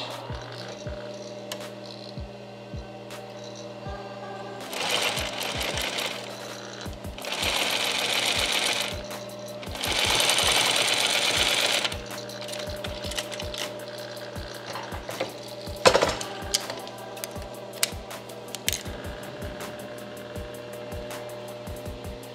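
A dedicated sewing machine stitching panels of a snapback baseball hat, rapid needle chatter in several bursts of a few seconds each, separated by quieter handling clicks and hum, close and without talk.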